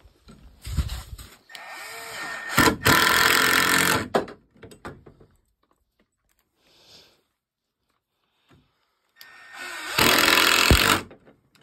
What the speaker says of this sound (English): Am I screwing that right into the tailgate, Colton?